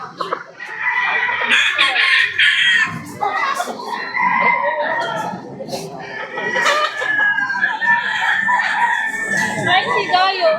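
Many chickens clucking and squawking with roosters crowing, a dense, lively flock close by, with children's voices mixed into the noisy scene.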